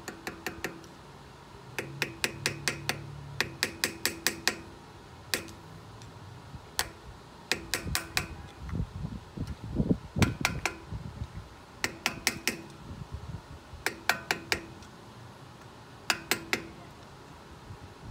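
A screwdriver edge taps a metal dust cap onto a wheel hub, sharp metallic clicks in small repeated bursts, close and fairly quiet, with some duller handling noise midway.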